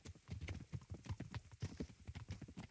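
Horse hooves clip-clop at a steady, rapid gait as riders travel in the medieval video game Kingdom Come: Deliverance, close and fairly loud throughout.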